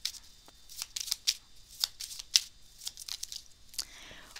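Small oracle cards being shuffled by hand, a rapid run of crisp papery riffles and flicks in irregular bursts, close and fairly quiet.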